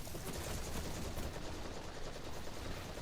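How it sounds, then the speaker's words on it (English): Rapid hip-fire gunshots in the video game Destiny, a dense unbroken burst of automatic shots at low level, the bursts running together without pause. "Here in just a second I'm going to do some hip fire."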